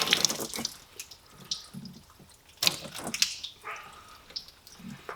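Water pours and splashes out of a car heater core during a flush, irregular gushing and dripping onto a wet floor in quiet, close bursts.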